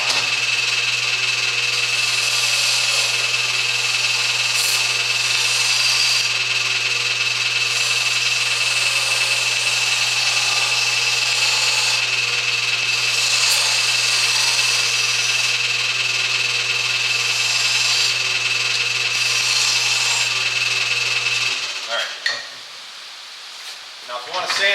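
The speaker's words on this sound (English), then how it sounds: "You also want to sand this quite a bit more." A wood lathe spins a workpiece being sanded, a steady close motor hum with a low drone and a high whine, abrasive scratchy hiss layered over it for about twenty seconds before the machine winds down.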